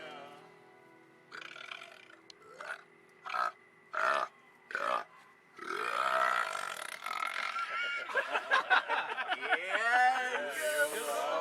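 A series of loud, drawn-out belches and grunting croaks sounds close up in the online game Shroud of the Avatar, several separate bursts followed by a longer rolling, warbling stretch.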